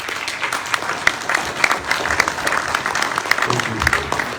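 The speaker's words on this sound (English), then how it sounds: "let's give them all another round of applause" Audience at a Hawkins County mayoral candidate forum applauding steadily, a dense wash of many hands clapping with a few sharper claps standing out, sustained throughout without speech.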